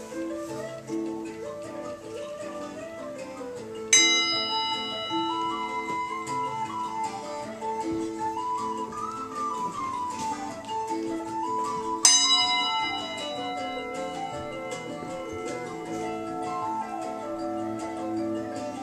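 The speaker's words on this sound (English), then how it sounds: "Three bells." A chime rings out over soft music with a sustained melody, its bright metallic strikes sounding clearly at least twice, each leaving a long ringing decay, with no talking.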